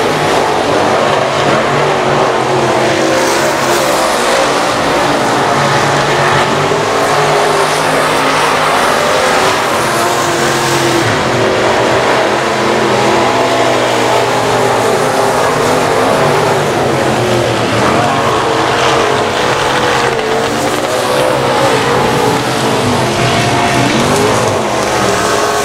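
Race cars run the final lap at I-37 Speedway, a loud continuous roar of engines with rising and falling revs and squealing tires as the pack passes close by.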